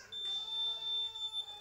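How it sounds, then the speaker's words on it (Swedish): A smoke detector sounds its test alarm: one sustained, piercing high electronic beep that holds steady for over a second, loud and close, with no talking. "Då har vi en brandvarnare också som fungerar."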